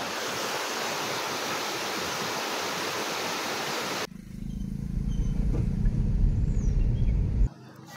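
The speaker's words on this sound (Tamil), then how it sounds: "அருவியோடைய சத்தம் உங்களுக்கு கேட்குதான்னு பாருங்கள்." A loud, steady rush of falling water at Thoovanam Waterfalls in a forest roars continuously, then gives way to a deeper, rumbling flow of water.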